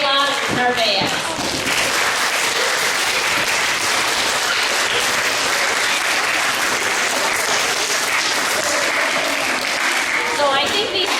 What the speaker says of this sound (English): these double All-Stars deserve a double round of applause